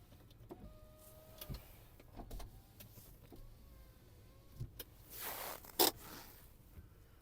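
The electric mirrors or power windows of a Volkswagen Touran run in short motor whirs inside a quiet car, several brief whining bursts with clicks between them and a louder buzz near the end.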